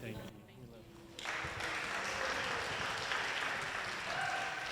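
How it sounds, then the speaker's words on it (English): Wedding reception guests applauding the toasters, a steady crowd of clapping that swells and holds loud after a quieter start, with voices mixed in. "big round of applause for both of our toasters this evening"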